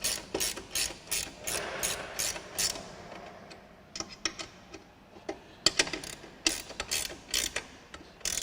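Ratchet wrench tightening bolts while building a Bluerev TRIO e-trike, quick bursts of close, crisp clicking that stop and start in short runs, with no talk.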